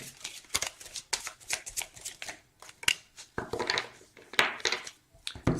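Tarot cards are shuffled by hand in a quick run of crisp riffling bursts, with short pauses between the flurries, close and fairly quiet.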